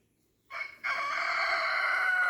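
A rooster crows once on a farm, a short clucking lead-in followed by a sustained, loud, close cock-a-doodle-doo.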